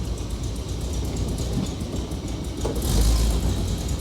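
A 1970 Chevy Blazer engine idles and rumbles steadily up close, swelling briefly louder as the truck is shifted into reverse.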